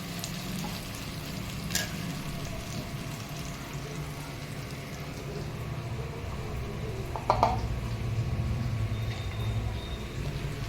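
A katla fish head fries in a pan, giving a continuous soft sizzle and crackle with a couple of sharp utensil clinks against the pan.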